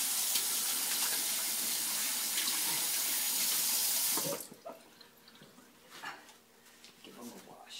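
Hands are washed under a running kitchen tap before making bannock, a loud close water rush that cuts off abruptly midway, followed by quieter splashes and handling sounds.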